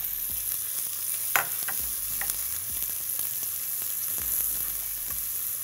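Onions and garlic fry in a pan while being stirred, with a constant loud sizzle broken by several distinct scrapes and knocks of the utensil against the pan.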